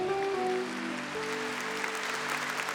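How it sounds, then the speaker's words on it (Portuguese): Church congregation applauding visiting sisters, a steady wash of many hands clapping from a large crowd, moderately distant, with a held musical tone and a voice underneath at the start. "Uma salva de palmas, gente."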